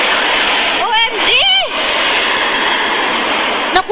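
Rushing white floodwater surges in a loud, continuous roar through a flooded area in Luzon during heavy rain, with brief voices rising over the steady torrent.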